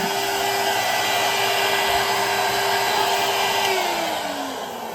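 Air rushing steadily through a drained water pipe at a lodge shut down for a cold front, a constant loud hissing with a faint tone that drops in pitch near the end.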